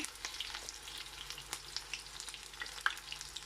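A kimchi pancake fries in a pan with a steady close sizzle, broken by scattered crackles and pops and one sharper spit near the end.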